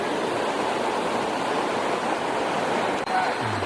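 A forest stream on the trail toward Pitugro waterfall flows in a constant, even wash of running water, moderately loud and unbroken throughout, with a faint low thump near the end.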